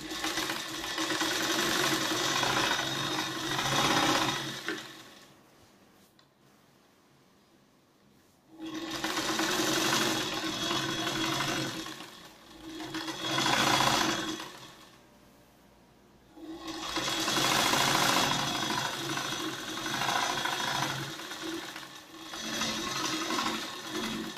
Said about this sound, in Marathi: टीप टाकून झाल्यावर ह्याच्यावर एक दाब टीप टाकून घ्यायची